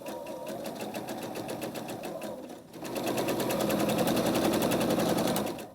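Sewing machine stitching fabric in a steady rapid mechanical chatter, pausing briefly near the middle and then resuming louder and faster, close and continuous with no talk.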